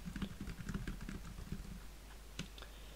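Fingers type on the keyboard dock of an Asus Transformer Pad 300 tablet, producing soft, quick irregular key clicks close by that taper into a few sparse taps, with no voices.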